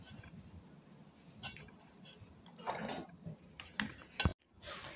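Butter and flour being broken up and stirred together in a bowl by hand, with soft scraping and scattered light clinks of a utensil against the bowl, mostly faint with a few sharper knocks near the end.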